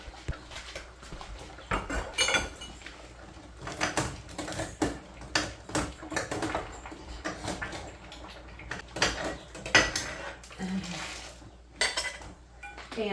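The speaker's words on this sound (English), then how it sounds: "And I'm going to keep stirring this." A utensil stirring hot corn in a metal pot during canning, with repeated scraping clanks and clinks against the pot in an uneven rhythm, close and moderately loud, with no speech.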